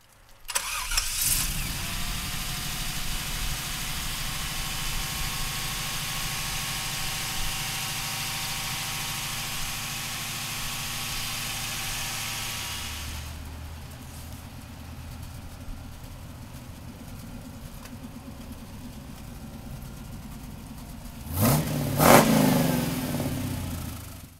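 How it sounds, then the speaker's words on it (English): LS V8 in a 1930 Ford street rod pickup cranks and catches, then holds a loud, steady idle for several seconds before settling lower, with a sharp blip of revs near the end. "let's fire this LS up"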